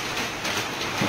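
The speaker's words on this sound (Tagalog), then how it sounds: "Maulan dito sa Carmona, Cavite ngayon. Meron thunderstorm." Rain pouring during a thunderstorm in Carmona, Cavite, a dense, even hiss of drops on surfaces, fairly faint and continuous with no voices.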